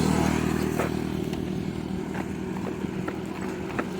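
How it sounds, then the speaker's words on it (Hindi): TVS Apache 160 4V BS6 motorcycle being push-started in neutral with a starting problem, a continuous low engine rumble with rattling clatter and scraping, close and steady for several seconds. "इसे धक्का दे करके स्टार्ट करके बैठना, थोड़ा स्टार्ट करके देखते हैं"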